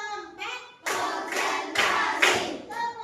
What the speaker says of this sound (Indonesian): Tepuk 1, tepuk 2, tepuk 3, tepuk 4, tepuk